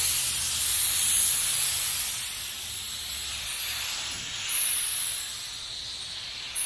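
A low-CFM spray gun lays automotive primer at about 15 to 20 PSI, making a steady, close airy hiss that swells slightly near the start and again briefly toward the end, with no voices.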